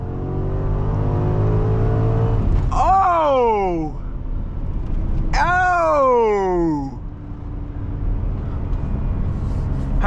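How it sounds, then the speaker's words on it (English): A BMW X5M launches hard from a stop: two strong engine surges whose pitch sweeps steeply downward with each upshift, loud and close against a steady road-noise background. "Had to get a little launch for the video real quick."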